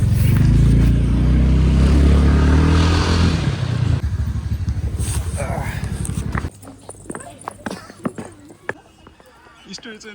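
Motorbike riding on a mountain road between checkpoints, with loud engine and wind rumble that drops away midway and leaves scattered clicks and knocks, while people talk over it.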